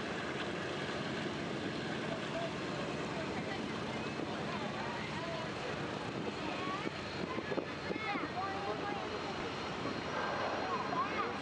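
The four piston engines of the Commemorative Air Force B-17 bomber Red Raider roar through its takeoff roll on the runway: a loud, continuous, rumbling drone that holds steady throughout, with voices faintly underneath.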